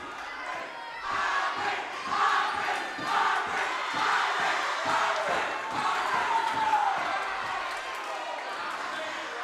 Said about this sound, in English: I approve of that cheer.